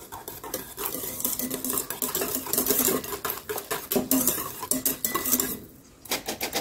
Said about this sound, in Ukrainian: Вінчиком все розмішаємо.